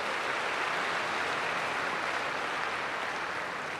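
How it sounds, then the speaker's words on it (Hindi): A large audience at a sisters' felicitation ceremony claps loudly and steadily, a dense continuous roar of applause without pause or talk. "हाँ, जोरदार ताली बजाइए।"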